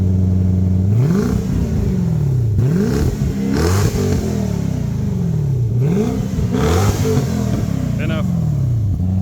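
Lexus GS430 V8 revved repeatedly through a DIY valved exhaust, engine climbing and dropping in several loud rising sweeps over a steady idle, close by, with a brief voice in the background.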